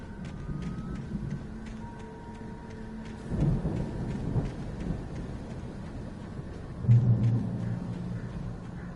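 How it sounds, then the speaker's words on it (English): A storm in the video game Alan Wake Remastered, with steady rain hissing throughout and two heavy rolls of thunder, the second louder and nearer. There is no talk. "The storm raged on as the Anderson brothers walked unsteadily away from the clinic"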